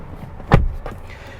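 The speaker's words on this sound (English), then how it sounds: "But to shut the door here" A rear door of a 2021 Hyundai Santa Fe SUV swings shut with a single solid, close thump, followed by a fainter secondary latch click and quiet cabin ambience.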